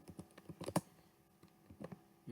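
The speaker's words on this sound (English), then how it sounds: "Let's quickly type it." Computer keyboard typing in short irregular bursts of clicks, close and fairly quiet, with one louder keystroke cluster and no voices.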